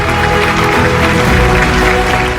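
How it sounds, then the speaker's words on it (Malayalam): Dense, sustained applause from a seated audience greeting M A Yusuff Ali's announcement at a public charity event, steady and loud throughout with no break. "എം എ യൂസഫലിയുടെ പ്രഖ്യാപനം നിറഞ്ഞ കയ്യടികളോടെയാണ് സദസ് സ്വീകരിച്ചത്"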